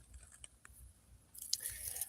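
A dry weed crunches and crackles close by, a few soft crisp snaps that build into a brighter, denser crackle near the end, fairly quiet overall.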